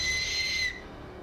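A brief shrill blast on an Aztec death whistle, blown once, holding a piercing tone for under a second before cutting off to near silence.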